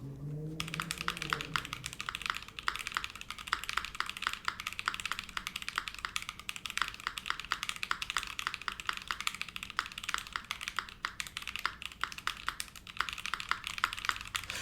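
Rapid, steady typing on a full-size mechanical keyboard, close and crisp, with dense clacking keystrokes continuing throughout and no talking.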